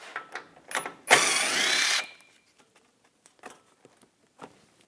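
Ratchet turning a 10mm socket on bolts holding a shield on a Buick Encore, a loud continuous buzzing whir of about one second, preceded and followed by scattered light clicks and metal taps.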